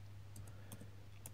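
Light clicks of a computer keyboard typing a command at a Windows 11 command prompt, a few soft scattered keystrokes over a steady low hum, no voices.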